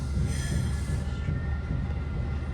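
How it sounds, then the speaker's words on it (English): A Caltrain train slowing into South San Francisco station, a dense low rumble of rolling wheels with a thin high squeal early on, steady and fairly close. "Here we are pulling into South San Francisco to make our scheduled stop."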